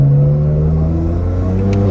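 A tuned BMW F80 M3 engine pulling hard under acceleration, a loud close droning tone climbing steadily in pitch over about two seconds.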